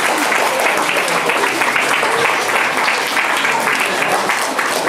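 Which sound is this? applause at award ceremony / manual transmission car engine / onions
applause at award ceremony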